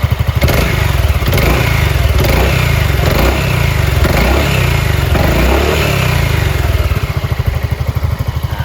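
A loud, close exhaust on a 2020 Honda Forza 350 motor scooter revs repeatedly, rising and falling in pitch with a throaty, popping rumble throughout.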